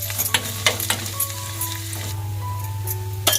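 Ground roasted onion and coconut masala sizzles in a hot pan for Marathwada-style aluvadi curry, a continuous close fizzing with stirring scrapes and clinks on top, no speech.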